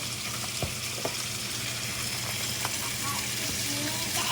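Salmon sizzles steadily in a pan, a continuous bright frying hiss with a few small pops and clicks, close and unbroken, with no talking.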